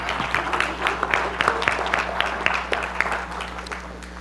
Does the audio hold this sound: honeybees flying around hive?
no